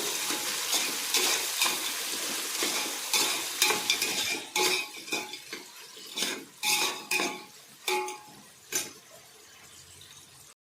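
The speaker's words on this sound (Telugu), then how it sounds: "మష్రూమ్, స్వీట్ కార్న్, పచ్చి బఠానీ ఇవి కూడా వేసుకుంటామండి. వేసుకొని వేగించుకోవాలి" Mushrooms, sweet corn and green peas fry in a pan for mushroom biryani, with a steady sizzle and repeated loud scraping and clanking of a spatula against the metal, close up and with no talk.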